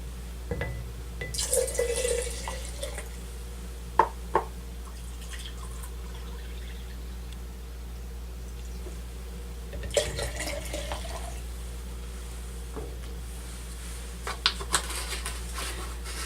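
Hydrogen peroxide poured into a mason jar, two cups in all. Close liquid trickling and dripping comes in a few bursts over a steady low hum, with small clinks in between and no speech.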